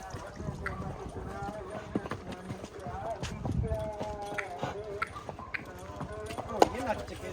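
Stallion's hooves clip-clop in an uneven rhythm close by while it is ridden, with people talking over the steps.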